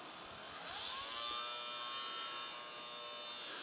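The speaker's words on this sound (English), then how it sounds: "I'm going to put a little load on this motor" Small electric motor on a bifilar double loaded coil circuit, running with a steady high buzzing whine that deepens slightly as load is put on it, continuous and fairly faint.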